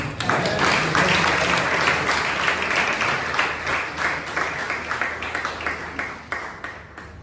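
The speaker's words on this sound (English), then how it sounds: "A huge round of applause." Members at a Bangalore Toastmasters club meeting applaud, starting as a loud unified burst and thinning into scattered individual claps as it tapers off.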